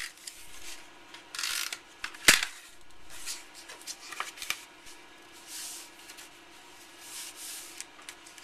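A paper envelope being folded and pressed closed, with soft rubbing, creasing and brushing sounds plus a sharp crackle, close up and fairly quiet, coming in short irregular bursts with no talk.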